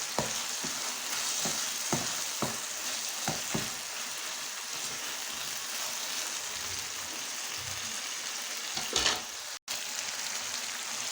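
Crushed ginger and garlic frying in hot cooking oil for a maash daal, giving a steady close sizzle with a few sharp pops and a brief clatter near the end, and no voices.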